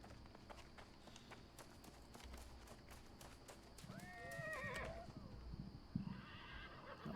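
Horse in the video game New World neighing in a shrill whinny midway, with soft repeated hoof clip-clop and footsteps before and after, moderately quiet, with someone talking over it.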